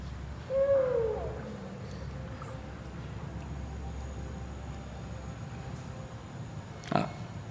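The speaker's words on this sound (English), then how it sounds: "here's an owl" An owl hoots once, clear and fairly close, over a quiet night backdrop in a swamp, with a faint low rumble beneath and a sharp thud near the end.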